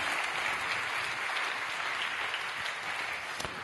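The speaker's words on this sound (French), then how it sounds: "Je crois qu'on peut vous applaudir" A room full of guests at a foundation's major donors' evening applauds steadily, a dense and even wash of clapping that holds for several seconds, with no talk over it.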